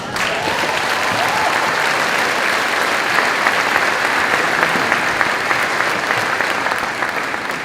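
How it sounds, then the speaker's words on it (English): Graduation ceremony audience claps in a large room, a loud, dense, continuous round of applause from many hands that keeps an even level for several seconds without speech. "I appreciate those claps."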